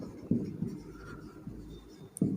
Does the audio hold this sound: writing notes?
yes